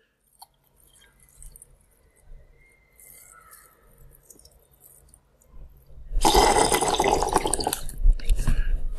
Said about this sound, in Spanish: mismo pondremos el huevo dentro del vaso. Añadiremos vinagre.